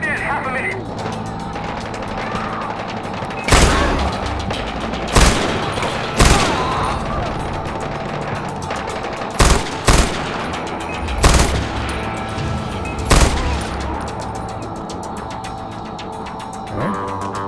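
Gunfire from a gun in Far Cry 4, a string of loud sharp shots in short bursts spread through the clip, some paired close together, over continuous game ambience and music.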